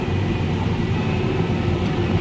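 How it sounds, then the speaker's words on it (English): An airplane flying overhead above a farm during straw baling, a steady broadband drone that stays constant and fairly loud throughout without any talking. "there's an airplane right there."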